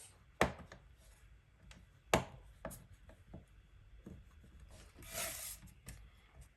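Card stock is scored at half-inch intervals, making a few sharp, close clicks and brief scraping strokes spaced unevenly, with a soft rustle near the end and no speech.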